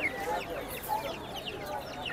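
Chickens and roosters cluck and call among overlapping vendor and buyer chatter at a busy poultry market in Tongi, the short bird calls rising repeatedly through the steady crowd noise.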